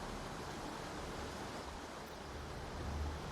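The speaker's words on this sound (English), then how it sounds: "let's get away from this incredibly loud river" A loud river rushes in the video game Baldur's Gate 3, a dense, steady roar of flowing water with no pauses.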